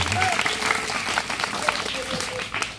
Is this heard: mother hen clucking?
no